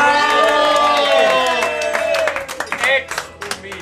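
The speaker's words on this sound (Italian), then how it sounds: "E un applauso al nostro pulmista!" An audience claps and cheers, with whoops over loud hand claps that grow patchier toward the end. Voices shout over the noise.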